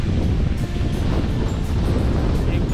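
Strong wind buffets a microphone at a farm, a steady loud roar with a rushing, surf-like quality that runs continuously without letting up.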